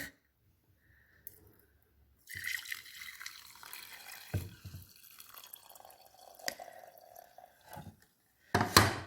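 Brewed tea, with mint mentioned nearby, pours from a container into a teapot fitted with a filter, making a steady liquid trickle that starts after a quiet moment and runs for several seconds, ending with a louder splash.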